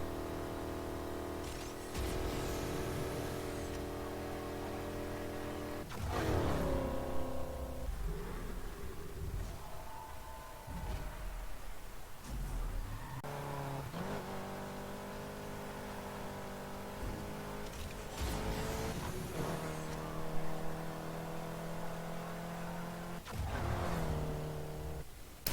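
Car engine revving hard on the speed test track in the racing game NFS Heat, with sustained high revs, repeated gear shifts and surges of acceleration, loud and continuous with no talking.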